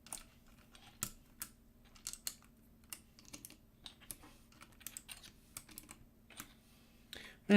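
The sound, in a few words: typing on NJPD 75 keyboard with box white switches, steel plate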